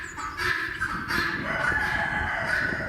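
A rooster crows steadily in the near distance, a drawn-out call with faint clucking around it and no voices.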